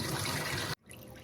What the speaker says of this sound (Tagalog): Lagyan natin yung tubig. Ito yung sabaw natin.